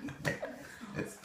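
Brief, rough coughs from a person with a slight cold: one burst early and another sharper one at the end, close and moderately loud, with low breathy sounds between them.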